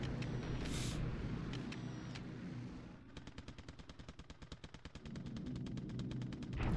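Buffalo fighter planes strafing in the War in the Pacific strategy game: a rapid, even burst of machine-gun fire lasting about two seconds, fairly faint under a steady engine drone, with a few scattered shots beforehand.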